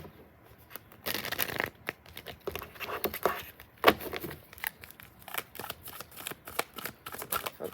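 Tarot cards shuffled and flipped in quick papery riffles and soft slaps, close and fairly quiet, with a sharper snap near the middle and no talk.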